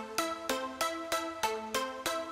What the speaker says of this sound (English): There is random, sounds like this.